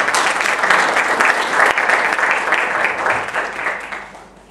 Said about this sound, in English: give a warm round of applause for Brother Amitabh